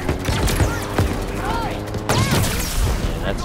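Gunfire in Halo Infinite's campaign mission The Sequence as a sniper is taken down, dense crackling shots and zipping effects layered through a busy, loud combat mix.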